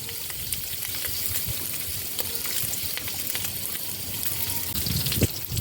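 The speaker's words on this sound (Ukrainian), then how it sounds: "Добряче так обсмажуємо під черевинку" Pork belly fries in a pan for a Ukrainian rassolnik soup, giving a steady, close crackling sizzle with occasional sharper pops and stirring scrapes throughout, no talking.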